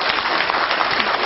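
Dense audience applause at a California Air Resources Board (CARB) meeting, a steady wash of many hands clapping, fairly loud and unbroken.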